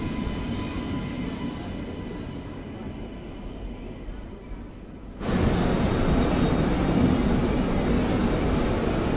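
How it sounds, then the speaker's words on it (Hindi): Ratnagiri Superfast Express (12166 Gorakhpur–Mumbai) arriving behind a powerful WAP 7 electric locomotive, a steady loud rumble that swells abruptly halfway through as the train draws close, with faint platform noise underneath. "ये आ गई मेरी train Ratnagiri super fast powerful locomotive WAP 7"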